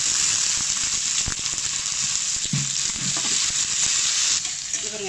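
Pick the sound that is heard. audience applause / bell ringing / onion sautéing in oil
onion sautéing in oil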